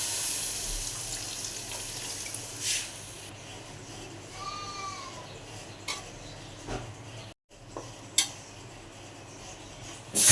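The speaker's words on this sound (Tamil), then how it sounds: "அப்படியே நம்ம தண்ணி ஊற்றிக்கலாம் தேவையான அளவுக்கு" Water is poured into a pan of chicken curry during cooking, a steady splashing trickle near at the start, followed by scattered clinks and a brief animal call in the background.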